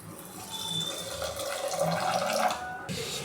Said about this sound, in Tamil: அடுத்து 1 டம்ளர் அளவாக தண்ணி ஊற்றிடுறேன்.